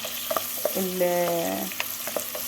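Onion and chicken pieces fry in oil in a pan over low heat, producing a close, steady sizzle punctuated by scattered stirring clicks and a brief tonal scrape near the middle.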